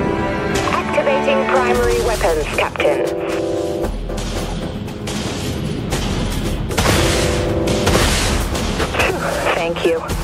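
Broadside guns on a warship in the naval combat game Dreadnought fire in repeated heavy booms, loud and close, over a steady mechanical hum and rumble while voice announcements from the ship's crew speak throughout.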